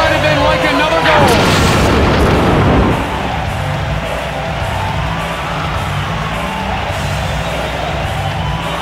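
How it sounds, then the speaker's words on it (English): A booming body check in NHL Hitz 2002 video game hockey lands as one loud, deep impact over constant crowd roar in an arena, followed by steady crowd noise. "A booming check by Stevens."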